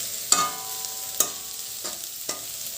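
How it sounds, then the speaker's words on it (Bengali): Rice frying in a pan in a home kitchen, with soft sizzling and about four sharp scrapes of a spoon against the pan at irregular intervals, close and with no talk. "ওই জন্য ভাবছি যে একটুখানি ভাতটা ভেজে নিই"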